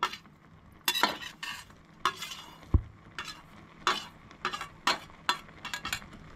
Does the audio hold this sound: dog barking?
no